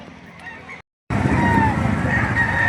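At a busy chicken market in Padre Garcia, Batangas, a rooster crows loudly and close, with other fowl and honking birds behind it. A sharp cut breaks the sound briefly before the crowd of birds resumes.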